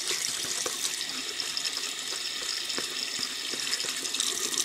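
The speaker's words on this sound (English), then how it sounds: "I'm going to wet the brush just a little bit here." Tap water runs steadily into a sink to wet a shaving brush for a straight razor shave, a constant close splashing hiss with no talk.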